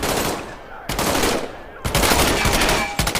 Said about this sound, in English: Reach over your shoulder and grab your M1A1 submachine gun. Fire away.